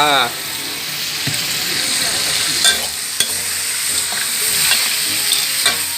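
Blue crab stir-fries in a hot pan with fish sauce, a loud continuous sizzle with scraping spatula strokes and occasional sharp clicks against the pan, close and steady throughout.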